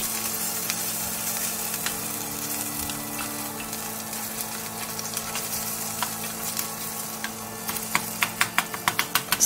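Sausage links fry in oil while being broken up in the pan, giving a continuous close sizzle with a run of sharp scraping taps toward the end.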